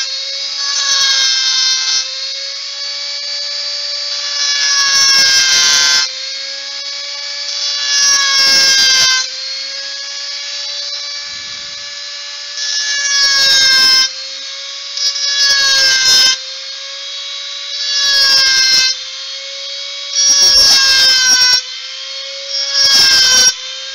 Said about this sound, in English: I will sand up to the line with a rotary sander.